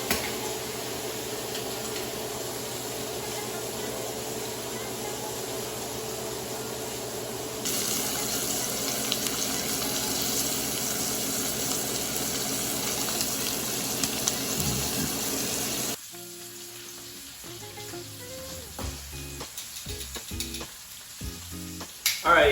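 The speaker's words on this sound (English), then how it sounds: "Give it a flip. Let it sear on this side." Steak searing in a hot pan, a dense continuous sizzle that swells louder partway through, then cuts to quieter clinks and scattered handling sounds near the end.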